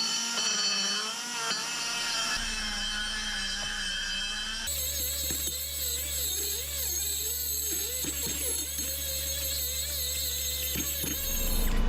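A cross-cut carbide burr grinding and porting the cast runners of an LS 5.3 intake, a steady high-pitched whirring rasp that shifts tone as the tool works, close and continuous with no talk.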